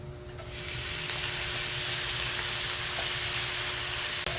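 Pork belly sizzles in a pan with onion and garlic, a steady, even frying hiss that swells in within the first half second and holds, ending with a small clatter.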